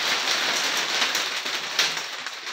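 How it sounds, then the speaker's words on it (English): Steady rain falling outdoors, a dense hiss of drops pattering on surfaces, close and fairly loud, unbroken throughout with no voices. "It's raining outside right now"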